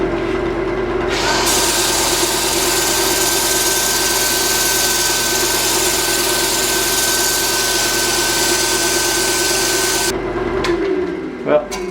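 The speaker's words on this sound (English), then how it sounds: "A little more sanding." A turned walnut and holly coin cup is sanded on the lathe, giving a loud, steady whirring rub that runs unbroken for about nine seconds before it cuts off.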